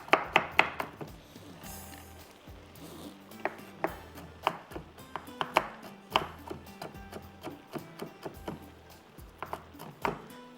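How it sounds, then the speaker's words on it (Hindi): Almonds and pistachios chopped on a board with a knife for radish halwa: a steady run of sharp, close knife strikes, sometimes in quick bursts and sometimes spaced out, with no voices. "थोड़े से ड्राई फ्रूट्स को चॉप करके इसके अंदर भी डालेंगे"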